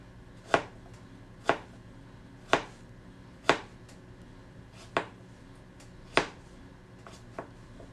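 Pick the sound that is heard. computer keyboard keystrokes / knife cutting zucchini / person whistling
knife cutting zucchini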